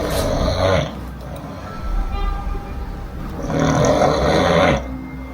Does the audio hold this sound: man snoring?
yes